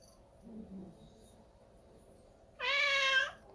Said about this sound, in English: I don't need cats running in and out of here.